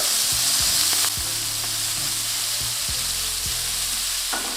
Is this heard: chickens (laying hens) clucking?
no